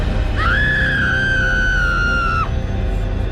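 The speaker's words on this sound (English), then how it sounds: "The girl screamed in horror and a terrible thing happened" A girl screams in horror, one sustained high shriek of about two seconds that cuts off sharply, ringing out over a steady low rumble.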